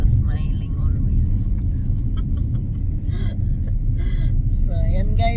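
A car driving along a road, a steady loud engine and road rumble filling the cabin from start to finish, with brief faint sounds from inside the car on top.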